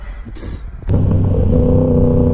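Motorcycle ride on a public road, recorded through a helmet-mounted microphone, with low engine drone that surges at about one second into a steady, loud, close rumble of the motor and wind.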